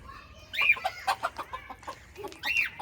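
Native village chickens cluck in short, irregular bursts, fairly close, with a few sharper squawks and some quieter bird chatter in between.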